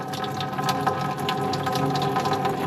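Water drains steadily from the cooling system of a 1927 Dodge Brothers Fast Four sedan during a head gasket job, a continuous close gushing trickle with no talk.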